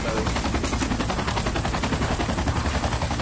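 Rapid automatic gunfire in a multiplayer shooter video game, dense continuous bursts of shots filling the whole stretch, loud and close with no clear talk.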